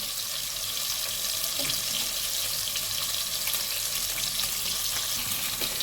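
Fish sizzles steadily in oil over medium heat, a constant broadband hiss with no voices, the frying noise even and close throughout.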